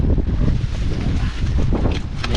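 Steady gusty wind roaring across the microphone, a broad rushing rumble with brief rustling bursts throughout.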